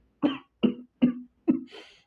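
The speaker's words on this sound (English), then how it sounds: "All Might begins coughing reflexively" Four sharp, reflexive coughs in a quick, evenly spaced series, each a short loud burst, ending in a softer breathy rasp; nothing else is heard.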